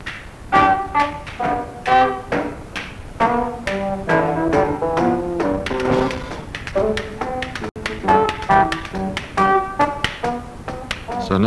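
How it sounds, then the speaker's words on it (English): A zobstick, a lagerphone-style percussion stick, is played in a brisk rhythmic pattern of jangling metallic taps, close and steady, with a brief pause midway. "So now we know what a Zobstick sounds like."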